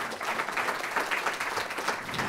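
An audience applauds two guests at a French panel on the environmental transition of industry, a soft, continuous patter of clapping from a crowd, moderately distant and steady for a couple of seconds.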